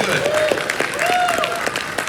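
Audience applause at a WonderCon panel, a steady wash of clapping throughout with a few whistles and shouts rising above it.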